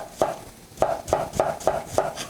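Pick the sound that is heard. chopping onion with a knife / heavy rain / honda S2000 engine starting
chopping onion with a knife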